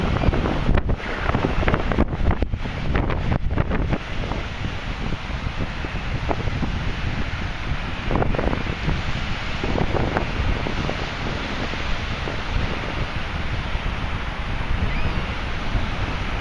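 Strong northeast wind of about 20 knots buffeting a microphone on a boat in cold rain, a continuous loud roaring rush with gusty buffeting and water noise throughout, no voices.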